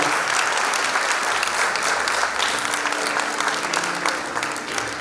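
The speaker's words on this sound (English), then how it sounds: "A big round of applause" At a Hindu Rama festival celebration in the UK, an audience gives the dancers a loud, sustained ovation of dense clapping that carries on without a break.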